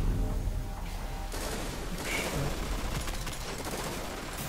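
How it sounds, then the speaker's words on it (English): Pulse rifle fire in the video game Destiny comes as dense, rapid bursts of gunshots in quick clusters, fairly loud and continuous across a busy, noisy battlefield. "This pulse rifle is crazy"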